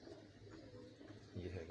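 Pigeons at a Karachi bird keeper's loft, giving soft low cooing over steady background murmur, with a fuller, louder burst of coos near the end.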